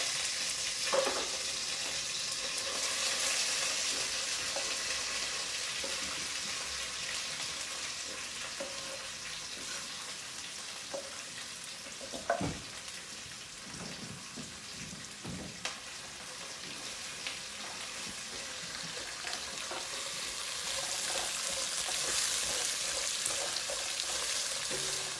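Curry leaves, onions and green chilies fry in a pan with a steady, broadband sizzle lasting throughout, broken by a few sharp pops and crackles, with no voices.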